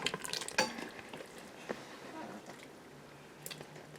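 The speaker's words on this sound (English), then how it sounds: "let's mix it up a little bit here and scoop some out" A spoon stirs and scoops pork hominy stew with sweet potatoes in an Instant Pot, giving soft wet squelches and light scraping clicks against the pot, fairly quiet and close.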